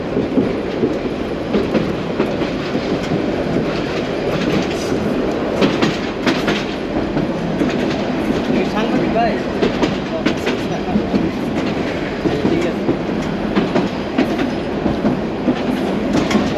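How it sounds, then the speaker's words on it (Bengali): Riding a commuter local train between Dhaka and Narayanganj: a continuous rumble of wheels on rails with rhythmic clickety-clack, steady and close throughout, with faint voices now and then. "commuter train commutator"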